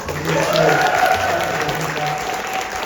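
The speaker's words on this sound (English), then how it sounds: "A round of applause." Audience applause at a live in-person talk, a soft continuous wash of clapping beneath a voice with a faint steady hum in the room.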